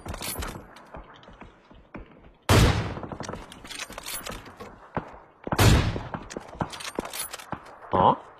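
Gunshots in a shooter video game: two sharp, loud blasts a few seconds apart, each trailing into a brief ringing decay, with quieter mechanical clicks and faint voices between them.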